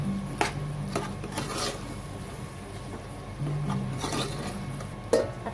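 A spoon scrapes and stirs white peas through masala in a pan, with soft repeated scraping strokes and light clinks of utensil on metal, fairly quiet and close.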